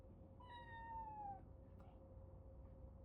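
A single drawn-out meow from a house cat that keeps climbing on potted flowers and knocking them over, heard clearly once over a steady low background hum, then only the hum remains.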